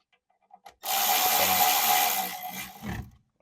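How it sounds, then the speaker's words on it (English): A ratchet tightening studs on a Volkswagen Jetta TDI, a few faint clicks followed by a loud, steady rasping whir for about two seconds, close up and with no voices. "I'm going to start off with my ratchet."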